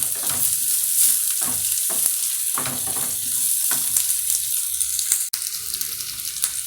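Onions sizzle and crackle steadily in a hot pan for a chicken gizzard stew, close and loud. Periodic scrapes from stirring cut through, and there's a sharp break near the end.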